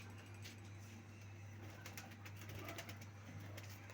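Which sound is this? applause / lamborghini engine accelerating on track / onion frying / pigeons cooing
pigeons cooing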